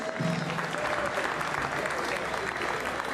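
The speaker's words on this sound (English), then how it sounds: "Round of applause for the ladies." An audience applauds at a Misfits x DAZN boxing press conference, steady clapping for about three seconds, fairly close and loud, with a voice briefly over it.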